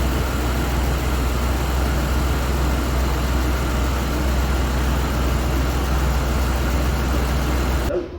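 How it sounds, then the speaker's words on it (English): A car engine idling steadily, a loud continuous low hum and drone with even texture that holds for about eight seconds before dropping off at the very end. "Yeah, it's actually idling."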